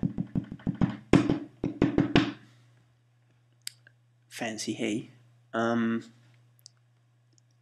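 A quick, steady run of sharp Logic metronome clicks plays for about two seconds, followed by someone speaking briefly.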